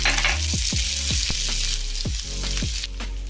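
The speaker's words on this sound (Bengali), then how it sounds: "এই পেঁয়াজ কুচিটা দিয়ে দেবো" Chopped onion sizzles steadily in hot oil in a pan, with a broad hiss and a series of scraping stirs at a regular pace, close and fairly loud with no talking, cooking for a Bengali potol chingri dish.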